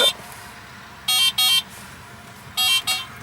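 The soft pedestrian-warning horn of a 2012 Renault Twizy sounds twice, each time as a quick pair of short, bright electronic beeps, with a quiet gap between the two pairs.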